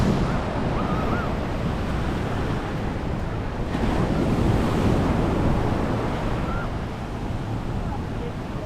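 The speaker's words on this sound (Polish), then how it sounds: "jedną z nich jest przebywanie na plaży i pływanie w takim oceanie" Ocean surf rolls onto Waikiki beach on Oahu, Hawaii, in a continuous roar with heavy wind buffeting the microphone.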